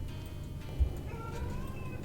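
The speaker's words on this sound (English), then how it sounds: "Kenny is meowing." A pet cat named Kenny meows close by during a tabletop card game, a short sharp call near the middle set over a steady low room hum and soft background noise.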